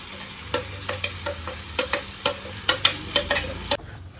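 Ground puree stirred in a cooking pan: a quick, fairly regular run of about a dozen scraping strokes over a low sizzle, close and clear, stopping abruptly just before the end.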